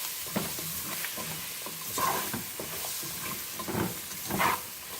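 Onions fry in a pan for a chicken curry while being stirred, giving a steady close sizzle with scraping stirs that swell in bursts and no talking.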